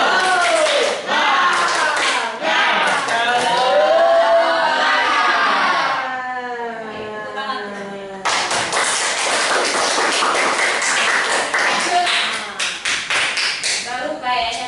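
A classroom group performs a rhythmic clapping chant, sharp claps in a quick pattern mixed with energetic chanted voices, pausing briefly midway before the claps and shouts resume loudly.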